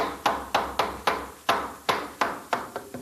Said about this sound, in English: just to demonstrate the best way of nailing one in